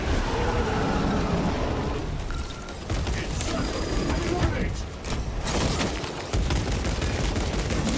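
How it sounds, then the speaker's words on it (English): Dense, continuous gunfire and heavy mechanical combat noise fill a fight in the video game Space Marine 2, with bursts of firing and explosions running almost unbroken under occasional talk. "Gunshot."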